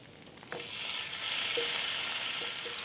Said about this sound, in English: And then we need to fry up 6 strips of bacon.